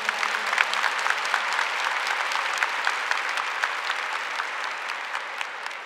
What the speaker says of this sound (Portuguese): Então aplauda esse irmão aí que está aceitando o convite.